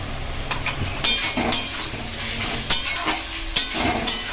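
Ginger garlic paste fries in hot oil as it is stirred, with a soft sizzle and intermittent spoon-against-pan clinks, close and fairly quiet.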